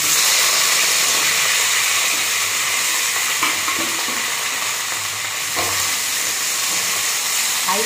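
Small cut potato pieces frying in hot oil over a high flame, a loud, dense, unbroken hiss and crackle with occasional faint utensil knocks beneath it.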